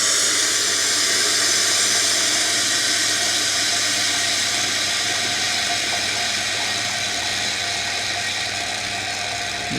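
Hot water running from the hot water outlet of a Lelit Bianca espresso machine into a cafetiere, heard as a loud, continuous hiss with a steamy whir that stays steady for about ten seconds and fades slightly toward the end, with no talking.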